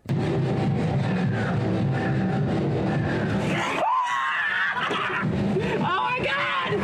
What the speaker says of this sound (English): there's gonna be lots of screaming in this next clip